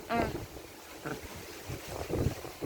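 Strong stormy wind blows outdoors, buffeting the microphone in low rumbling gusts, with brief voices and faint talk breaking through now and then.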